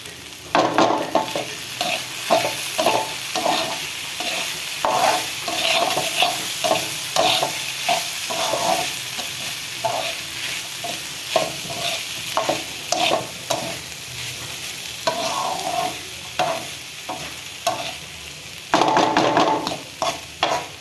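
Vegetable bhaji stir-fries in a pan with a continuous close sizzle, broken by frequent rhythmic scrapes and clacks of a spatula against the metal, and no one speaks.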